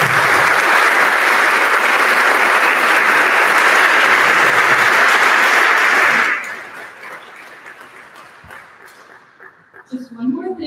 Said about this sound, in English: Please join me in giving them a round of applause for all their support.